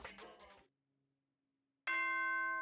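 A bright ding-dong chime from the video game Danganronpa rings out clearly and near, following a short tonal phrase and a pause of near silence, sustained ringing tones.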